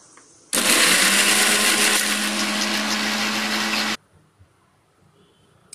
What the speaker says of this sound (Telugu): ఇగో మిక్సీ చేశాను